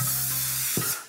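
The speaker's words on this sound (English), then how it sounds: "Put the baking tray next to it, like this, and give it a bit of a spray with" Vegetable oil sprays from a can onto a baking tray in a kitchen, a loud close continuous hiss that cuts off abruptly, followed by a brief soft thud.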